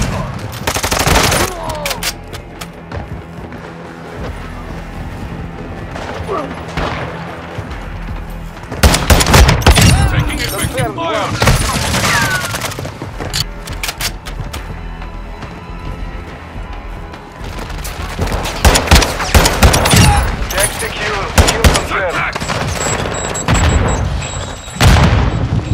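Call of Duty: Modern Warfare 2 multiplayer firefight on Crown Raceway, with dense bursts of rapid automatic gunfire and booming explosions, loud and continuous, under brief in-game voice callouts.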